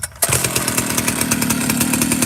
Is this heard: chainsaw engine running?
yes